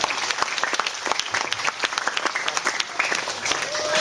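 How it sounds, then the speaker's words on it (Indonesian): Audience applause at a Halal bi Halal gathering in a foundation hall in Bangil, Pasuruan, steady dense clapping from a crowd that holds for the full stretch at moderate loudness. "Kita berikan aplaus ini teman-teman."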